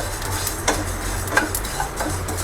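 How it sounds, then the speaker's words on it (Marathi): Sesame seeds roasting on a hot pan for winter dry fruit and flaxseed laddu give off a steady dry sizzling hiss, dotted with a few sharp crackles and pops, close and moderately loud, with no voices. "या तिळाचा पण आवाज यायला लागला तडतड"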